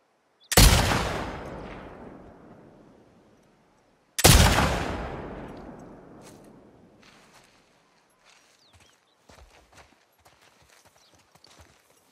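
Two loud, close gunshots ring out several seconds apart in The Last of Us Part II, each one trailing off into a long echo. Faint, scattered clicks and rustles follow before things go quiet.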